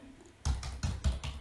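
Several loud keystrokes on a computer keyboard, including the tab key, sound close up while Python code is typed, arriving as four or five separate sharp taps with brief gaps between them.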